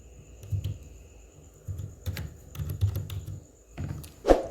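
Typing on a computer keyboard, short bursts of soft clattering keystrokes with brief pauses and a sharper click near the end, close and quiet, no voices.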